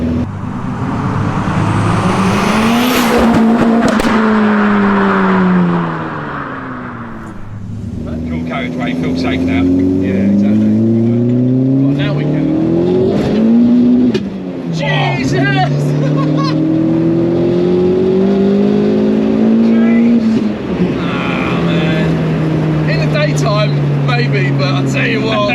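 A big-turbo 1.8T 20V SEAT Arosa engine with over 360 bhp pulls hard through rising and falling revs, loud and close, with turbo whooshes and crackles, and voices talking over it.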